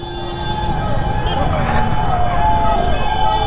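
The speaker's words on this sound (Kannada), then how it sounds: "ಆಂಬುಲೆನ್ಸ್ ಬರ್ತಾ ಇದೆ, ಒಂದು ಸ್ವಲ್ಪ ಸ್ಟಾಪ್ ಮಾಡಿ" An ambulance siren sounds in city traffic in Bengaluru, a steady wailing tone over dense road noise and engines, continuous through the clip with voices talking nearby.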